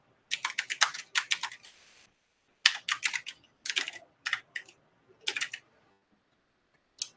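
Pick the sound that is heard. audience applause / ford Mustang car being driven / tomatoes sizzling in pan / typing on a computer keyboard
typing on a computer keyboard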